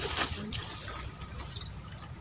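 Water poured from a watering can onto a vegetable seedbed, a soft continuous splashing trickle close by for a couple of seconds, with no voices.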